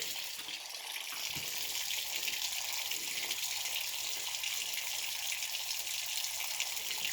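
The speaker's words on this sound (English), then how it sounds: "we still got water pouring out of here" Water pours and gushes steadily from a faulty steam boiler in a basement plumbing setup. The hiss and splash stay continuous, with no talk during it.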